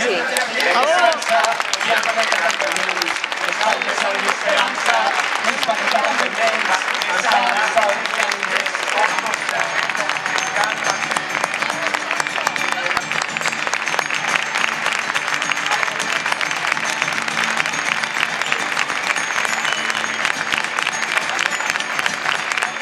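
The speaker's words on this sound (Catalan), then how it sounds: "hauríem de fer-nos un aplaudiment" Loud, sustained applause from a large crowd at a night-time assembly, honouring cleaning and security staff, dense clapping filling the whole stretch with cheering and crowd noise mixed in.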